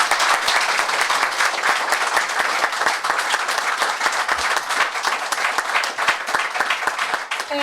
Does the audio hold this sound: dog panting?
no